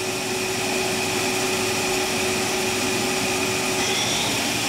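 A Kuraki KV-1000 three-axis vertical machining center spindle spins at 3000 RPM, giving a loud, constant whine with a steady tone and a broad airy rush, heard alone without talk.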